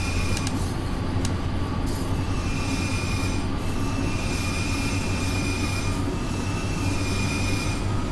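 An electric locomotive train in Train Simulator climbs uphill through snow, a steady loud rumble of wheels and motors running continuously, with occasional squeals and clicks riding over the drone.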